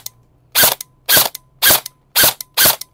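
An LT 32TA10 G3 airsoft rifle firing five sharp, evenly spaced shots, each a loud mechanical crack-and-clack, with quiet gaps between.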